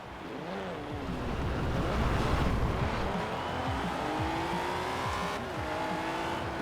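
A retro Alfa Romeo racing in Forza Horizon 4, its engine roaring and revving continuously through rising and falling gear changes, loud and close, with no voices over it.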